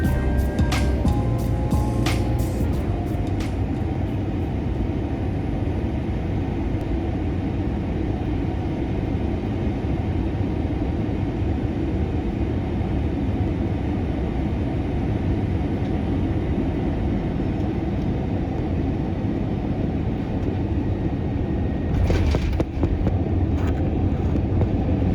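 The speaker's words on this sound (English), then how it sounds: "Please enjoy our approach and landing into runway 28 right at West Palm Beach." Steady, loud rumble inside a Delta Boeing airliner cabin on approach and landing into runway 28 right at West Palm Beach, a continuous low engine and airflow roar with a few brief clicks at the start and a thump late on.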